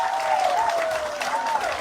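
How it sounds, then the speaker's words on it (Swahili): An audience at a gathering claps in a brief, steady burst of applause, dense and continuous, with a sustained tone faintly running underneath. "Pigia Bwana Yesu makofi."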